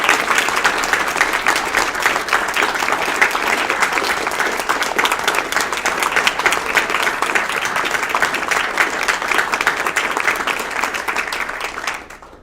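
Loud, sustained applause from a lecture audience, dense steady clapping filling the room for about twelve seconds before cutting off abruptly at the end.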